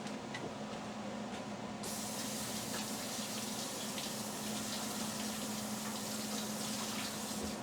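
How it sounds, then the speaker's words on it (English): Water runs steadily from a tap while an embossing folder is rinsed off, a continuous close splashing hiss that grows fuller partway through, with no talking. "Give me 2 seconds to go rinse this off."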